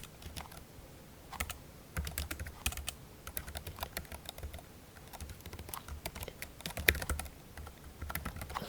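Keys clatter on a computer keyboard in quick irregular bursts with short pauses, close and fairly quiet, as an email address is entered into a sign-up form. No one speaks.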